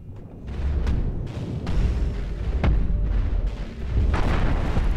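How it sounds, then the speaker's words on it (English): Heavy cannon blasts from a spaceship in Cosmoteer boom at irregular intervals, several deep thuds with sharp cracks over a rumbling background. "Big cannon up front."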